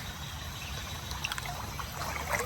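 Water trickles through a dug-out gap in a beaver dam, a steady soft gurgle and dribble with small splashes, heard close and alone.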